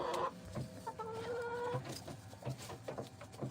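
Several chickens cluck and squawk in a repeated, busy run of calls close by while being fed, with some low background rumble.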